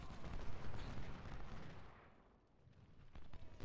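Musket and cannon fire from a Civil War battle in the strategy game Ultimate General: Civil War, a dense rumbling barrage of shots that fills the clip, easing briefly before swelling loud again at the end.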